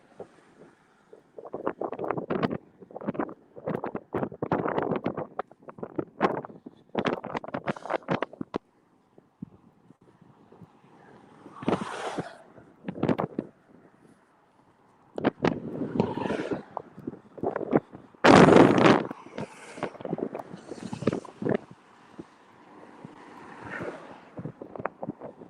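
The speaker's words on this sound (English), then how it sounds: "Wind's picking up a little bit." Wind gusts buffet the microphone on the Seven Mile Bridge, coming as irregular loud roaring bursts broken by short quiet lulls, with no talking.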